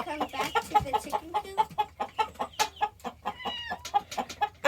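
Chickens cluck near a chicken coop in a steady run of short, repeated calls, close and fairly loud, with no talk over them.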